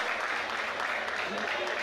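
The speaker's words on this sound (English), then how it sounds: "As you can hear the fans, they're cheering him on." Football crowd cheering in a stadium during a men's international friendly between Grenada and BVI, a dense continuous roar of distant fans throughout.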